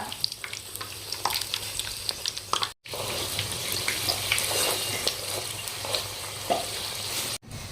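A chicken seekh paratha frying on a pan sizzles loudly and steadily up close, with wet crackling and occasional stirring or shifting sounds, briefly cut off twice and no speech.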